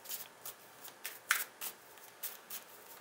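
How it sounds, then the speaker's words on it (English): Mixed emotion cards are shuffled and pulled close up: a quick series of crisp riffling and flicking bursts about every third of a second, quiet and without talk. "Let me just pull some mixed emotion cards here,"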